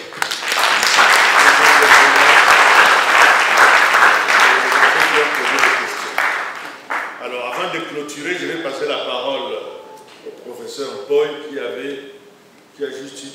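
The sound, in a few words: audience applauding at a conference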